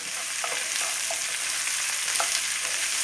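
Chopped snake gourd tipped into a pan of frying small shallots, giving a steady broadband sizzle with a few soft stirring knocks, close and continuous, no voices.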